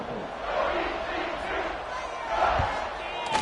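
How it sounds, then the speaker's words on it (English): A football stadium crowd in a video game buzzes after a score, a steady broad roar of many voices swelling slightly, heard close and loud with no break. "this crowd is buzzing after that last score"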